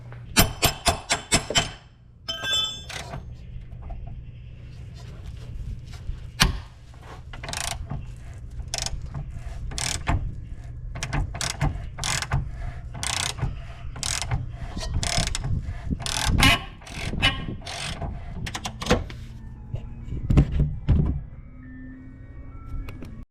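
A ratchet working on the control arm bolts of a slammed big-turbo Subaru WRX, with rapid clicking bursts repeated again and again, some pauses between runs, close and loud.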